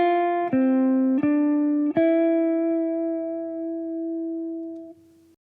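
Simple melody of the first two bars of a jazz standard in F, played on a clean sustained instrument: four clear notes, the last held long and fading, alone and close.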